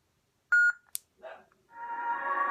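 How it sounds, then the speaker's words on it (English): A custom lightsaber gives a sharp electronic beep followed by a brief chirp, then a soft whoosh and a rising, sustained electronic hum. "Wait for 2 beeps once you're holding to advance to the second sound font."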